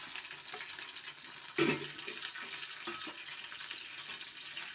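Dried chillies, garlic, green chillies and ginger are sautéed in a pan, a quiet steady frying sizzle with occasional stirring scrapes and one louder clatter midway, close by and without speech.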